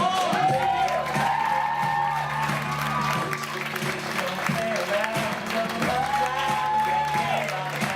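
A crowd applauds a pianist at a live performance, dense sustained clapping with a few whoops and cheers, while a musical tone hums underneath and some voices mingle in.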